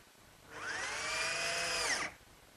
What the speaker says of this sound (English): I'll fasten it in place using some 1-inch drywall screws